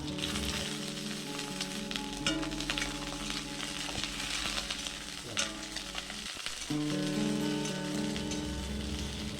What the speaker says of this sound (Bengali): বেগুনগুলোকে একটু আলাদা করেই ভেজে নেব